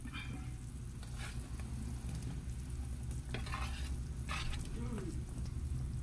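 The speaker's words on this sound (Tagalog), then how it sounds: "So, pwede na natin ilagay ang radish guys" Steady close bubbling and sizzling from a simmering sinigang pot of red snapper with mustard greens, with stirring scrapes and a few soft splashes as radish pieces go in, continuous throughout.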